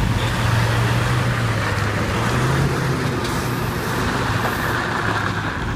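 A semi truck backing a 53ft trailer with the wheel turned hard right gives a loud, steady diesel engine drone with low rumble, close and unbroken, with no talking.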